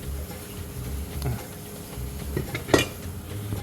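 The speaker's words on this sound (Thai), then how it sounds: "มาล้างเห็ดหอมนะครับ เห็ดหอมเนี่ย ก็ ต้องล้างให้สะอาดเหมือนกันครับ" Soaked shiitake mushrooms being washed by hand, with light clinks and clatters of a bowl and utensils, a few small knocks and one sharper clank near the end, close by with no talking.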